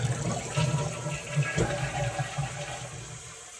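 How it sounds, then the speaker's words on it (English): A household toilet flushes after its fill valve has been adjusted and lowered, giving a steady rush of water with a brief louder surge near the middle, close and continuous throughout. "So I'll push the float down and flush to test it."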